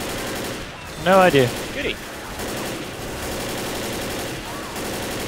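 Gunfire against zombies in the co-op shooter Left 4 Dead, a continuous clatter of shots running throughout, with players talking briefly over the shooting.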